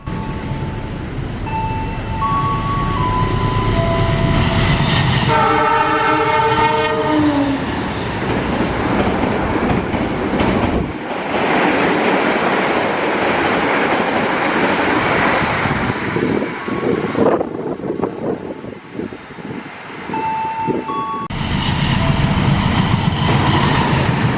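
A PT KAI themed train marking the company's 80th anniversary rolls past Klari station, its steady rumble and rail clatter loud and close, with horn-like tones sounding early and wind buffeting the microphone throughout.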